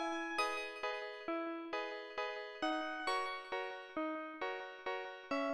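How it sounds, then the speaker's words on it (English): A bright, plinking melody of short plucked notes bounces along at an even pace, like a cheerful chiptune loop, soft and alone; the shop theme from the game Deltarune. "the shop theme that will play in every Dark World from now on"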